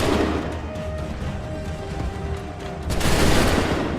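A massed musket volley in Assassin's Creed 3 erupts as a loud ragged crash near the end of a rumbling battlefield din, after a long stretch of steady low noise with a faint tonal hum.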